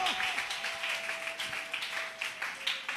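A church congregation applauding loudly, many hands clapping in a continuous dense wash with a steady tone held underneath, sounding somewhat distant and moderately quiet.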